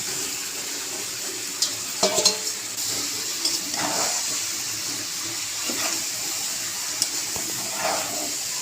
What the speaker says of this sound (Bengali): এটাকে ভালো করে কষিয়ে নিচ্ছি দেখো।